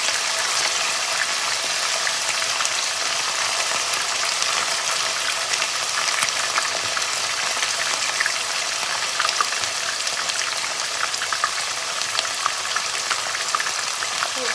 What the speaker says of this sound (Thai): เราก็จะใส่ลงไปแบบนี้แล้วก็ทอดนะคะ